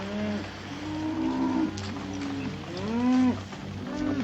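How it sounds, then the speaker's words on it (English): Cattle lowing in a herd on an old Western cattle drive, several deep drawn-out moos overlapping one another at moderate distance with no talk over them. "Keep the cattle moving."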